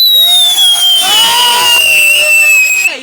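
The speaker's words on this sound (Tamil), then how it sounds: "இது பாத்தீங்க அப்படின்னா விசில் ஃபவுண்டைன்" A whistle fountain firecracker gives off one loud, piercing whistle that holds for about three seconds, gliding slowly downward in pitch. Faint crackling and distant voices sit beneath it.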